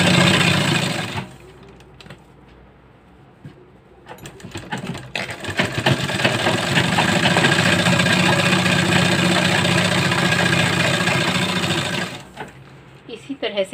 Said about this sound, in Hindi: इस मार्जिन के ऊपर सिलाई करनी है।